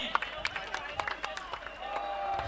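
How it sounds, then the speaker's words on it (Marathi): An audience at a cricket final between Bebo Star and King Boys in the Royal King Dhamaka Big Bash 2026 gives a burst of scattered claps, moderately near, as an announcer speaks over it. "एकदा जोरदार टाळ्या होऊन जाते दोन्ही संघासाठी"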